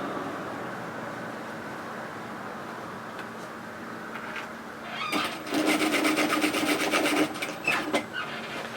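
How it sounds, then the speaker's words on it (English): A sewing machine runs a seam around the top of a lined tote bag, a soft rubbing hum that swells into a brief faster burst of stitching near the end. "sew a 1 centimetre, 3/8 of an inch seam allowance all the way around the top of the bag"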